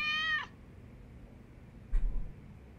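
A kitten in the video game Lost Judgment gives a single clear, high meow at the start, followed by near quiet with a faint brief tap later.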